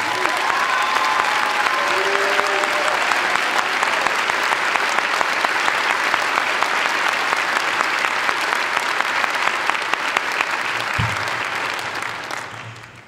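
Sustained audience applause fills a high school graduation ceremony in 2013, a dense, steady roar of clapping from a large crowd that holds evenly for about twelve seconds before tapering off at the end.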